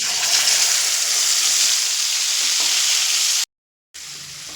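Loud, dense sizzling of a ground spice paste frying in oil for a jackfruit and paneer curry, a constant bright hiss that cuts out briefly to silence before resuming.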